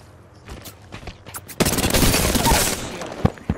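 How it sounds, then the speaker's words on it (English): Rapid automatic gunfire in the Apex Legends battle royale, a few sparse shots giving way to a loud sustained burst of fire that runs for a couple of seconds before tapering, close and dominant. "Getting shot at."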